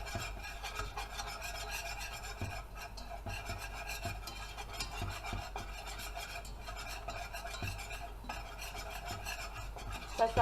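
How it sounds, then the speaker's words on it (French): A spoon or whisk keeps stirring a roux of flour cooking in a pan, a continuous scraping, rasping sound with a faint sizzle underneath, steady and fairly quiet throughout. "On peut continuer de mélanger."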